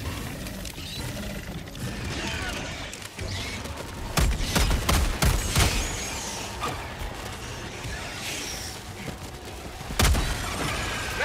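Orbital strike explosions in the video game Helldivers 2 hit as a loud, dense barrage of booming blasts and crackling impacts over steady battle noise, with the heaviest hits bunched in the middle and near the end.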